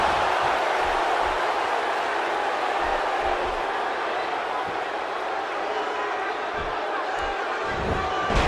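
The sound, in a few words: crowd cheering in a wrestling video game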